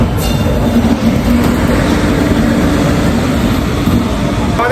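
A moving passenger train near Kolkata rumbles loudly and steadily throughout, a dense continuous roar from on board with no talk.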